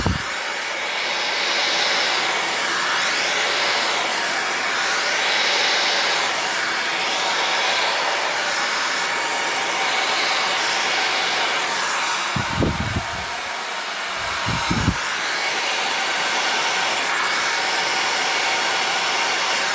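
A hair dryer blows steadily across acrylic pouring paint on a ceramic tile, a loud continuous whooshing hiss with slow wavering, briefly interrupted by a couple of short bumps near the end.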